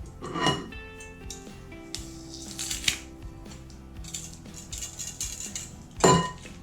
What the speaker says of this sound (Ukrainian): Видушу декілька зубчиків часнику